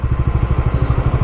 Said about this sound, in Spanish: Se siente el motor suavecito. Las revoluciones todavía están como en 7000.